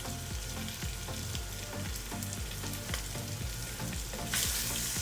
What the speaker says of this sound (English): And now add all the meat to your pot and stir it to combine.